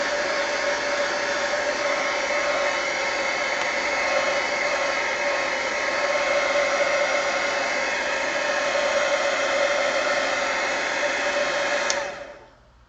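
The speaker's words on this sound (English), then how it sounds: "Heat gun." A heat gun blows hot air steadily over an art journal page, a constant loud whooshing hiss that runs unbroken for about twelve seconds before cutting off at the end.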